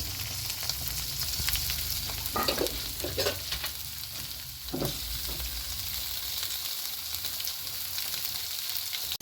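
Onion and garlic frying lightly in a pan, a steady broadband sizzle with a few louder bursts of stirring and spoon scrapes partway through, no talking.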